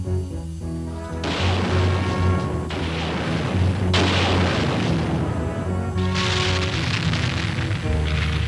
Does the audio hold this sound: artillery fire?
yes